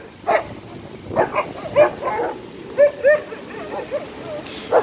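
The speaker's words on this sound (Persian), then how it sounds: "این سمت راستیه سگان که خیلی بزرگن و اینا، این طرفش هم سگای کوچیکن." Large and small dogs bark in a park area with a street nearby, several short barks and yips scattered through, some nearer and louder, over steady outdoor ambience with faint voices.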